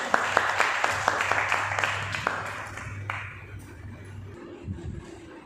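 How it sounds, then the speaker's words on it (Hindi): An audience at a Sanja folk festival program gives a welcoming round of applause, starting with distinct sharp claps that thin out and fade after a couple of seconds, leaving a quieter room with a low hum. "जोरदार तालियों से स्वागत"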